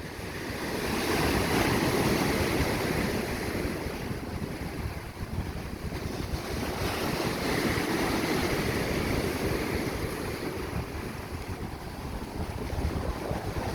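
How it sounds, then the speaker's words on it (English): Strong wind buffets the microphone in a constant rushing roar at the seashore of Hilo Bay, Hawaii, mixed with the broad wash of surf, loud and unbroken throughout. "It's really windy out."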